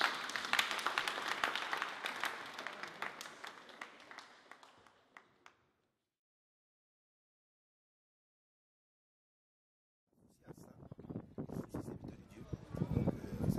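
An audience claps loudly, the applause tapering off into silence, then a second burst of clapping rises again for several seconds.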